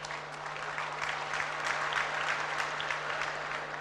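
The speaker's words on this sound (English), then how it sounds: "Please give him a round of applause." A convocation crowd at a Nigerian private university applauds the Vice President, a sustained, even wash of many hands clapping, fairly loud and continuous, with a steady low hum underneath.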